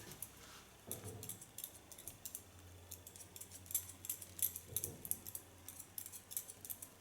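Scissors cut short hair over a comb, making soft, close metallic snips. They come in uneven clusters of quick cuts against a faint background hum.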